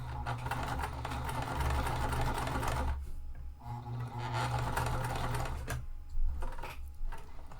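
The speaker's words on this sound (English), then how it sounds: "put my presser foot down, and then I'm going to hand crank." A hand-cranked sewing machine stitches a wallet in steady rapid mechanical clatter, running continuously with two brief pauses, close and fairly quiet.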